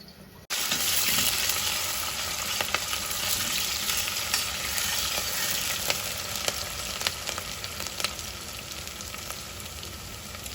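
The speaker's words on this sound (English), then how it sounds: "Let them saute a little bit" Vegetables for zucchini soup sautéing in a pan, a dense continuous sizzle that starts abruptly, with scattered clicks and scrapes of stirring over the top.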